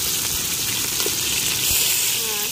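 Green chillies and onions hit hot oil in a pan for sambar, giving a steady, close sizzle and crackle that runs the whole time with a little faint talk underneath.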